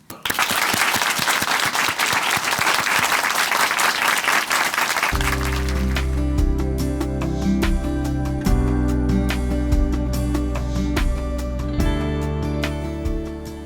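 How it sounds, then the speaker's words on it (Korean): A church audience in Chuncheon gives loud, sustained applause welcoming a speaker to the stage, dense clapping that rings out alone before music takes over beneath it and carries on. "큰 박수로 모시겠습니다"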